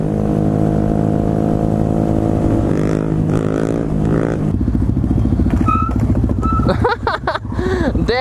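A Suzuki DRZ dirt bike rides and revs loudly, its steady engine drone rising and falling through gear changes, with sharp throttle blips and a passing whine near the end, close by with no talk.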